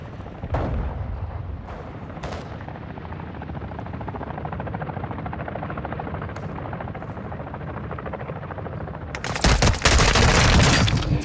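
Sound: gunfire in the video game Call of Duty DMZ

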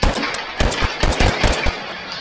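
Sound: revolver firing rapidly in VR video game H3

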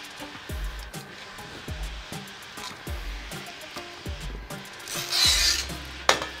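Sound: pulling cutting string through vinyl wrap on a wheelchair

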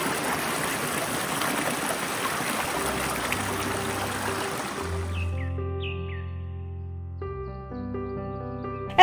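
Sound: Agna mountain stream flowing

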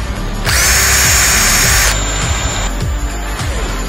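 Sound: power drill running

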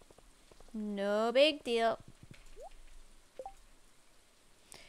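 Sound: rain falling in the video game Stardew Valley

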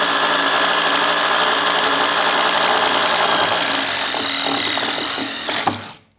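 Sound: drill boring a hole through wood

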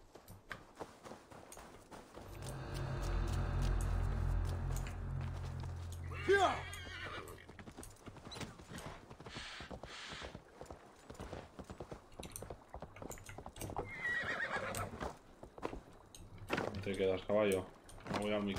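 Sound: horse neighing and hooves in a video game

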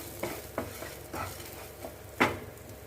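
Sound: toor dal being dry-roasted and stirred in a pan

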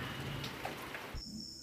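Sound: rain falling outdoors on cows in a village

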